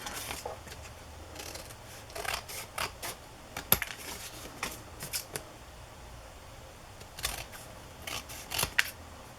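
Scissors snipping through paper in irregular bursts, short crisp cuts with pauses between, close by and fairly quiet, no talking.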